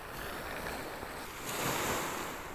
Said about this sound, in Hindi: देखिए बिलाद शाम लबनान में ठाटे मारता समंदर किस तरह जोश मार रहा है